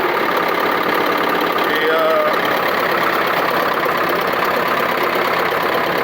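A John Deere 440 skidder engine runs steadily after an ether start, smoking hard; the loud, even idle rumble fills the whole stretch without a break.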